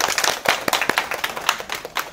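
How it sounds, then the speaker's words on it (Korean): A few people clap briefly at a Korean prenatal class after a stroller demonstration, scattered close hand claps in a small room for about two seconds. "박수."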